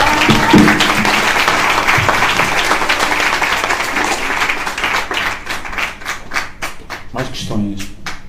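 An audience bursts into a round of applause at a book launch, with dense clapping that thins into scattered, separate claps toward the end, while voices talk over it.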